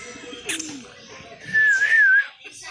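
Pigeons cooing up close, a soft low coo followed by a brief clear whistly call, with a person talking nearby.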